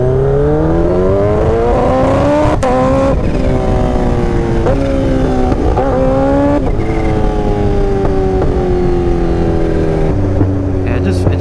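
A Kawasaki Ninja H2 motorcycle engine, newly regeared, revs loudly and continuously with rising and falling pitch sweeps as the rider works the throttle, with wind noise around the engine.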